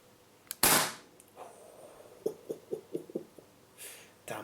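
A Secutor Magna CO2 pistol fires a BB through a chronograph with one sharp, loud crack, followed by a run of softer clicking and handling sounds, recorded up close in a quiet room.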